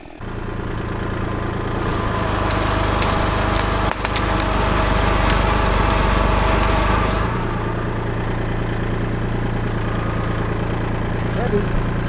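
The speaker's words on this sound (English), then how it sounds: "I'll get the tractor" A tractor engine runs steadily and loudly throughout on a blueberry farm with a sawmill, a constant low mechanical drone that swells slightly in the first seconds and holds without pause.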